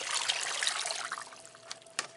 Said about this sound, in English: I'm going to pour all of this